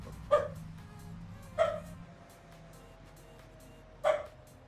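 Three separate dog barks in a Farming Simulator 25 game farmyard, spaced over a few seconds, moderately loud and fairly close against a quiet low hum.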